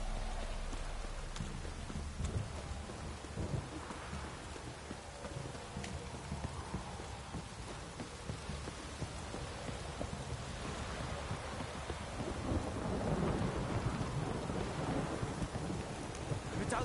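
Steady rain pours down during a thunderstorm in The Witcher game, with low rolling rumbles of thunder swelling beneath the constant hiss and a faint clip-clop of horse hooves in the mix.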